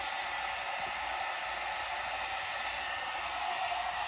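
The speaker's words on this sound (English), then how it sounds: "Now see if it works with the dryer." A one-step hot air brush dryer on a medium setting blows steadily through curly hair, a constant close airy whoosh with no pauses.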